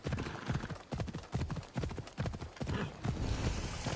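A horse gallops at speed with rapid, steady clip-clop hoofbeats and a brief whinny in the video game Assassin's Creed Odyssey, close and clear with no talking over it.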